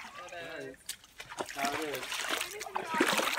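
A person plunges into cold outdoor water from a rope swing, making a sharp splash followed by sloshing and dribbling water, while voices talk and exclaim over it.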